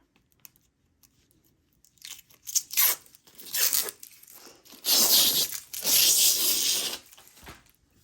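Clean plastic wrapping pulled off a hollow polycarbonate lightsaber blade tube, giving close crinkling and tearing rustles in several bursts, the longest near the end.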